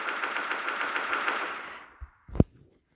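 A gun in a PvP shooter video game is reloaded: a dense, fast mechanical rattle fades out, then a few sharp clicks and a loud clack snap close by, with no one speaking.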